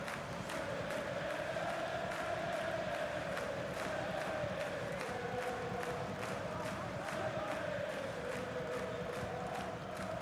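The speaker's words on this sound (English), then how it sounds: "The crowd encouraging him to take it on." Stadium crowd in the EA Sports FC 24 football video game, a steady loud roar of cheering and chanting that holds throughout, with rhythmic swells and a sustained wavering tone rising above the noise.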